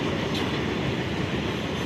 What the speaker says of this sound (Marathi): आणि पाहू शकता आमच्या छतावरून काय दिसते, रेल्वे.